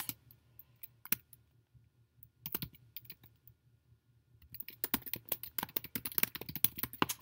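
Keystrokes on a computer keyboard: a few scattered taps early on, then a quick, steady burst of typing near the end, close and fairly quiet over a low steady hum.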